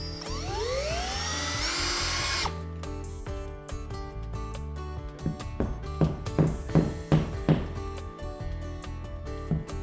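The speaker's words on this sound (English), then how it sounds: "Depending on the model, you may have to drill new holes." Power drill boring holes into a wall to mount a thermostat plate, a steady high whine that cuts off partway, followed by a series of short rhythmic bursts as the bit works through the wall.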